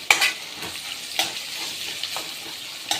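Chopped large onions, two of them, sautéing in a pan for a Tamil egg and drumstick curry, a steady soft sizzle with a few scraping stir strokes at an irregular rhythm, close and moderate, no talk.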